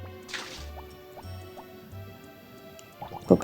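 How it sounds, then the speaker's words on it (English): Crops being watered in the Harvest Moon video game, a short run of repeated pouring and dripping splashes in a steady rhythm over a soft game tune, ending in a brighter splash. "we're just watering the crops"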